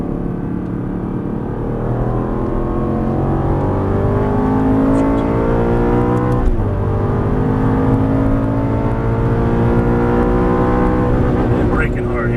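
An Aston Martin GT race car engine roars steadily on a Las Vegas track, its pitch climbing repeatedly through gear changes as it accelerates, loud and close from inside the car, with a voice talking over it.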